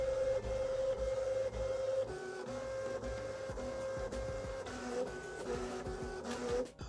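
A Voron V0.1 3D printer with a direct feed setup runs fast, its stepper motors whining in steady sustained tones that shift pitch as the moves change, with a whirring fan beneath, close and continuous, no voices.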